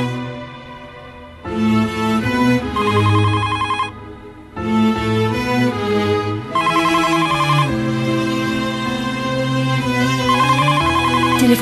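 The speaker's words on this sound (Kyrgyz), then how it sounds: "Телефонго жооп бербейсизби?" A telephone ringtone plays a melodic electronic pattern in repeated bursts separated by short pauses, loud and close, with no one talking over it.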